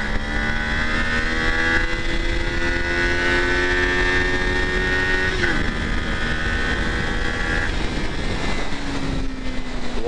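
A Kawasaki Ninja 500 SE motorcycle engine drone rising in pitch as it accelerates, with harmonic whine held loud and close throughout, shifting near the end.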